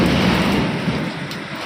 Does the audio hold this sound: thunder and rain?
yes